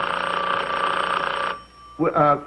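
An old-style telephone bell rings loudly in a sitcom scene, one sustained ring for about a second and a half before stopping, followed by a voice.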